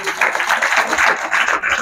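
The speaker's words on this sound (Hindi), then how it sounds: "ताली बजा सकते हैं यीशु को" Audience clapping for Jesus during a Hindi church sermon on John 11, a steady, dense wash of applause that fills the moment with little variation.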